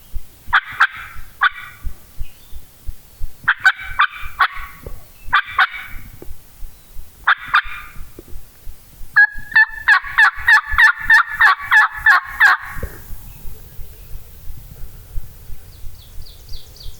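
Wild turkeys gobble in the woods on public land during a hunt. Several raucous gobbling bursts come in quick succession at moderate distance, followed by a longer rattling run, and no one speaks.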